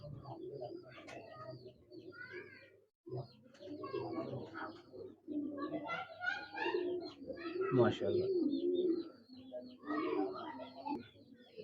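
Breeder pigeons, including a golden one, coo in soft repeated bursts close by in a loft, while someone speaks briefly alongside the calls.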